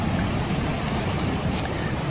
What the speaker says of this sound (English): Big surf.